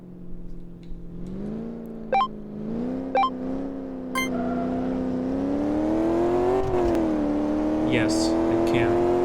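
Game car engine in Car Mechanic Simulator 2015 accelerating from 0 to 100, a steady rising drone that climbs in pitch across the run, punctuated by brief gear-shift clicks, loud and continuous with no talking.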